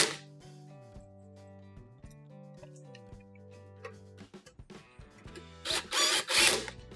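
Screws are driven back into the center bracket of a Whirlpool stove with a power driver, producing short whirring spurts with pitch shifts, followed by a few louder scraping clatters close by.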